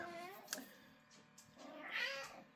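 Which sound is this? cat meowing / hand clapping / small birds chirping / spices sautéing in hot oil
cat meowing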